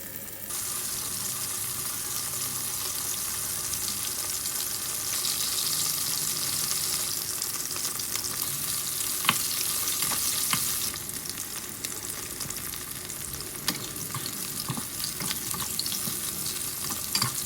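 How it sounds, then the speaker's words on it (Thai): Loud steady sizzling of chicken deep-frying in hot oil, continuous throughout with occasional pops and faint clinks, no talking. "ทอดไก่ก่อนนะครับ ทอดให้เหลืองกรอบนะฮะ"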